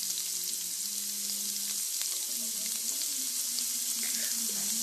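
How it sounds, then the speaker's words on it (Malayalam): Mustard seeds spluttering and sliced onion frying in hot oil for a Kerala raw-banana-peel thoran: a steady close sizzle with scattered pops and a faint background hum, no talking. "കടുക് പൊട്ടിത്തെറിക്കുന്നുണ്ട്,"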